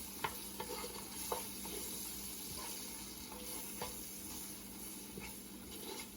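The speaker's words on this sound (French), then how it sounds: "je vais laisser le temps aux oignons de se dorer un tout petit peu" Onions frying gently in a pan with a quiet, even sizzle. Occasional light taps from a utensil can be heard, faint and close, with no one speaking.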